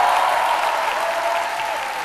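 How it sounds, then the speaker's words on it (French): A hall audience at a Saint Valentine's special TV show applauds in a dense, steady roar of clapping that holds at an even level throughout and eases only slightly toward the end. "Je vous demande de vous applaudir si vous êtes dans cette salle."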